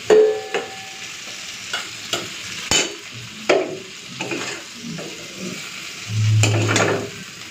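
Cooked taro stolons with shrimp are stirred and lifted in a pan: a spoon scrapes and clinks against metal in separate strokes, with a soft sizzle underneath, close and fairly loud, no talking.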